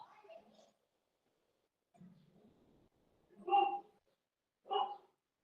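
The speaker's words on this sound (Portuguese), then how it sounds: "Esse som de fundo aí, meu cachorro" A dog barks twice in the background, two short distinct woofs about a second apart, after some muffled sounds and a voice in a quiet room.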